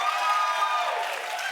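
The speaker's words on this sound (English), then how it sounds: "Clap if you think it ought to be Travis." Studio audience on a TV talk show breaking into a short burst of applause, dense and even, with a few cheering voices mixed into the clapping before it thins slightly toward the end.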